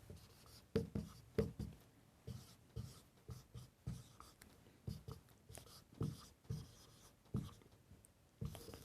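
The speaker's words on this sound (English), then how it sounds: "8 times 9, let's write that down" Writing on paper or a board during a math lesson on the volume of a composite shape, heard as repeated scratchy strokes in irregular bursts, close and fairly quiet, with no talking.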